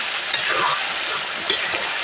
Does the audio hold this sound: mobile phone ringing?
no